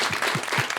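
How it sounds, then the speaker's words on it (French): Audience applause at a live quiz show, a brief, moderately loud burst of dense clapping. "Applaudissez pour eux"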